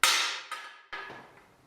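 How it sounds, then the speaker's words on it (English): Light hammer strikes on a seized, corroded bicycle part from a Kona Fire Mountain: three or four metallic taps, the first loudest, each ringing briefly and decaying, close and with no talk. "A little light hammering to break the corrosion."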